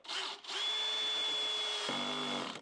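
Power drill driving screws into a panel inside an Astro van camper conversion, one steady whirring run of about two seconds that drops in pitch as the screw seats, close and loud.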